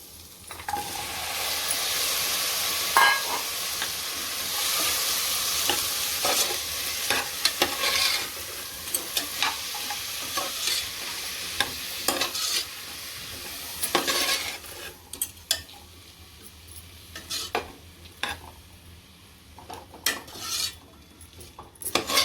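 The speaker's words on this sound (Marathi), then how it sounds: "भाजी आपण एक मिनटं परतूया चांगली एक मिनटं आपण तेलावरती भाजी परत" Vegetables sauté in oil in a pressure cooker for pulao, a close sizzle with frequent scraping and clinking stirs of a spoon against the metal pot. The sizzle fades partway through and leaves sharper intermittent stirring knocks.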